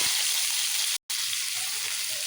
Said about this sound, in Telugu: ఇప్పుడు తరిగిన ఉల్లిపాయలు పచ్చిమిర్చి వేసుకోవాలి